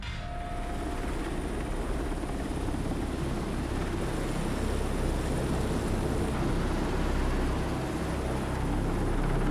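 A helicopter hovers just above a ship's deck in Antarctica, its rotor and engine making a loud, close, steady broadband roar with a rapid chopping texture that continues unbroken throughout.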